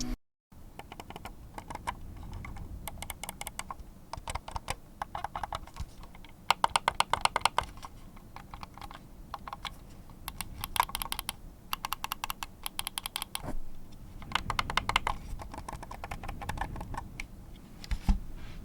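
A Transformers-themed computer mouse clicks its left and right buttons again and again in quick, uneven bursts, close and crisp, with no talking.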